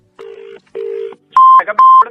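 A telephone keypad beeps as a number is dialed: two longer tones, then a quicker run of loud electronic beeps, close and clear with no voices.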